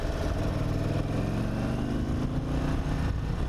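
An Indian Super Chief Limited motorcycle's engine revs with a dense, rough drone that holds steady and close, heavily vibrating at high RPM, with no speech over it.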